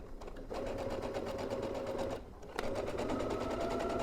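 A sewing machine runs in two bursts, stitching long, wide stitches along an elastic-waist floral-print dress, steady and close with a brief slowdown between runs and no talking.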